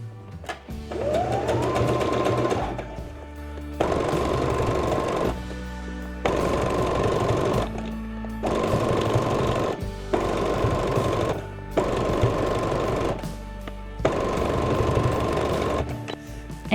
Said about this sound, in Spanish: Le voy a coser para pulir un poco esta costura que quedó aquí y lo voy a hacer con una puntada en zigzag